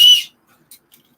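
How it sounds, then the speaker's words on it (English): A small whistle built into a camping survival tool gives one short, loud, shrill blast that stops abruptly. Near-silence follows. "And it has a whistle."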